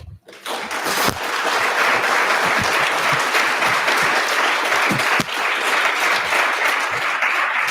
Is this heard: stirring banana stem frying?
no